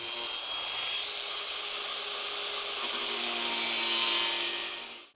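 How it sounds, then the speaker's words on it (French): An angle grinder cutting a hole in a panel for a garage kit, a continuous loud, close grinding whine holding steady for several seconds before cutting off, with no talk. "puis je fais un trou à la meuleuse."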